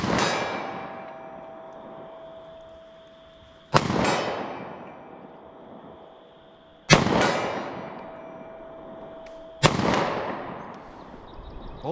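Four 9mm Federal HST rounds are fired at a target 50 yards out. Each sharp, loud report rings off in a long decaying echo, spaced a few seconds apart, at an uneven pace.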